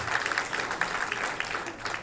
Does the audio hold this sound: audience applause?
yes